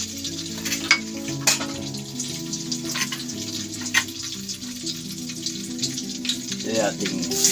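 Garlic, onion and tomato frying in cooking oil mixed with butter, a continuous close sizzle with occasional utensil clinks over a low steady hum.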